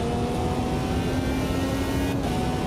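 A race car engine in the Automobilista 2 sim idles and revs steadily at Indianapolis, a constant droning buzz with a sustained tonal whine and no talking.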